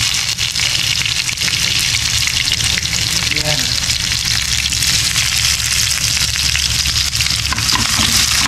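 Garlic and then onion sautéing in a hot pan for a simple Filipino adobo, giving a loud, steady broadband sizzle that runs the whole time without pause, with the faint clink of stirring now and then.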